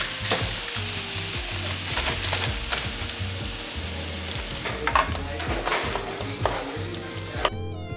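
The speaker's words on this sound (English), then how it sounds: "we got the water boiling and the sausage cooking" Steady sizzling of sausage frying in a pan, with occasional clinks and scrapes of a utensil against the pan.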